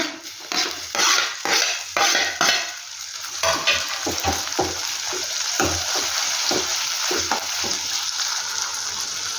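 Tomatoes and onions stirred in a frying pan for a mung bean palya, with sizzling oil and repeated spoon scrapes and clinks against the pan at an uneven rhythm, close and fairly loud.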